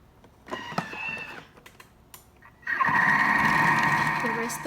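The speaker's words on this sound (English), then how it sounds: "I also added the onions, and now we're gonna mix it." A Thermomix mixes meatloaf ingredients with onions, a steady loud whirring motor that starts partway through after some brief clatter and handling noises.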